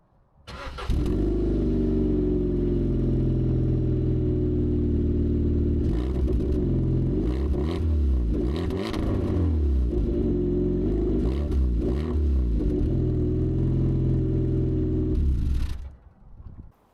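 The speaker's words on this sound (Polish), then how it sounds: "wydech może nie tyle co jest dziurawy, ale jest już wypalony w środku" A car engine with an exhaust burnt out inside runs loud and rough for about fifteen seconds, with a deep droning exhaust note and a few revs in the middle, then shuts off.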